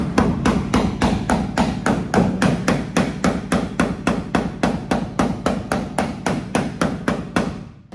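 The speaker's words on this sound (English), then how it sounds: "And so I took my hammer" A hammer strikes a metal hood exit panel on an S14 to form an indentation, landing about thirty sharp, evenly spaced blows in a steady, close rhythm with no talking.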